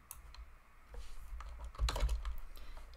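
Quick keystrokes on a computer keyboard, a close cluster of soft clicks that grows busier toward the end, with no talking.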